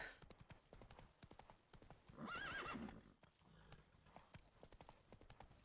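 Quick hoofbeats clip-clop along while a horse whinnies briefly in the middle, set against a busy soundscape in The Witcher 3: Hearts of Stone.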